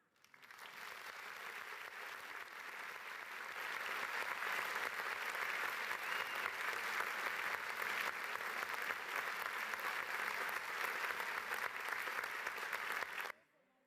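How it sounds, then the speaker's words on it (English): Sustained audience applause at a school annual day program, a broad steady wash of clapping from a large crowd that swells after a few seconds and holds strong until it cuts off. "Please give a big round of applause to all our participants"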